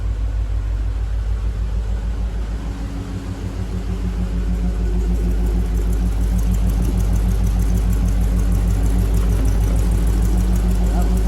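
A 1936 GMC truck with a swapped LS V8 runs on its first start in 60 years, with a deep, steady idling rumble and exhaust throb close by that builds slightly partway through, as people talk over it.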